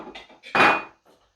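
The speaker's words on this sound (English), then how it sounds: "Frying pan there." A frying pan set down in a kitchen while making an omelette: a few light clinks followed by one louder metallic clatter, close and brief, then quiet.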